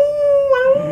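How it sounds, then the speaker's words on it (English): A single sustained dog howl, one steady drawn-out tone that wavers slightly near its end, loud and close with no talk. "Maybe you need to be listening for dog howls"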